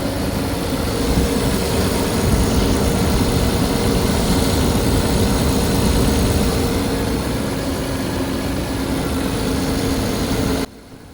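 An Audi engine runs at a loud, steady idle with a freshly replaced viscous fan spinning, a constant close drone and whoosh that cuts off abruptly at the end.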